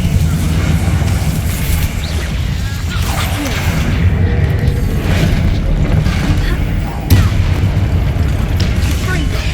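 Confringo spells blast repeatedly in Hogwarts Legacy, a dense, loud barrage of booming, gunfire-like impacts and crashes rumbling continuously, with a sharp burst near the end and a voice mixed into the din.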